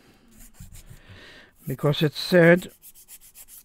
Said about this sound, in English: Maybe take some sanding on that.